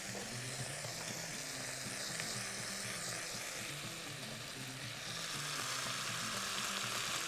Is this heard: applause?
no